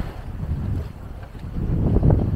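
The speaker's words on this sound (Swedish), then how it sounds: "Vi har passligt med vind, passligt med vågor" Wind and waves aboard a sailboat at sea, a steady, rushing buffet of wind against the microphone with water washing beneath, no voices.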